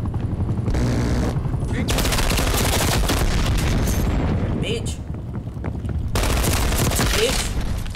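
Heavy, continuous enemy gunfire in Call of Duty Black Ops Cold War, loud dense machine-gun bursts mixed with booming impacts, running almost without pause over several seconds.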